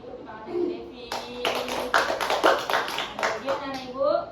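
A small classroom group applauds a student named Devi, a burst of close, uneven hand clapping from several people lasting a few seconds, with voices talking over and around it.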